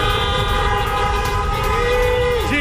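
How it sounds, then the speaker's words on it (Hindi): Horns blare continuously in a street celebration, a loud overlapping wall of sustained tones with traffic noise underneath, captured close to the crowd. "मेरे पीछे लोग कार हॉर्न कर रहे हैं, दिखा रहे हैं कि वो कितने खुश हैं।"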